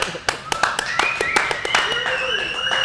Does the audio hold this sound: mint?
no